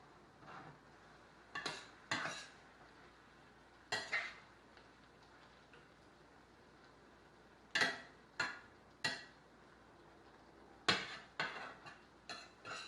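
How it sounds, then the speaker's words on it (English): Taco meat and canned beans with their juice being stirred in a pan: repeated scraping clatters of a utensil against metal in short clusters, separated by quiet gaps, close and fairly soft, no talk. "Stir it all up."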